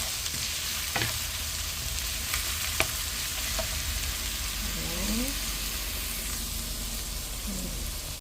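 Onions sautéing in a pan for beef igado, a steady close sizzle of frying with occasional stirring scrapes and utensil taps, no voices.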